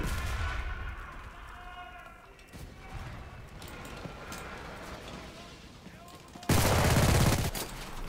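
Gunfire crackles through a Stalingrad battle in the video game Enlisted, with scattered distant shots and one loud close burst near the end, while players talk over it.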